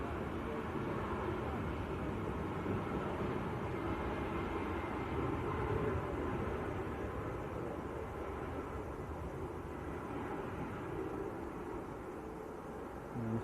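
A Ryanair airliner bound for Alicante moves at Manchester Airport, heard as a broad, steady distant jet roar that fills the whole stretch at an even level.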